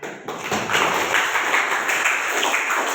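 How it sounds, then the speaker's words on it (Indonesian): Brief audience applause at a junior high school presentation, a moderate patter of claps rising quickly after a short pause and holding steady for a few seconds. "Kasih tepuk tangan."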